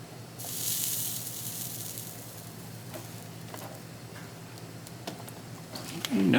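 Soldering iron melting solder onto model railroad track power feeders, with a faint sizzle and hiss that starts sharp and fades into a low steady background with occasional small ticks.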